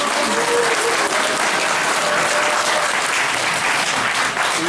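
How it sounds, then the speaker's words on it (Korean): An audience at a press center forum applauds to welcome a speaker, with dense continuous clapping from a crowd filling the whole stretch. "여러분 큰 박수로 환영해 주시기 바랍니다."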